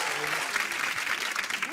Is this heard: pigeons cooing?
no